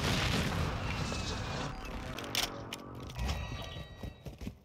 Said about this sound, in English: Yeah, I airstriked it.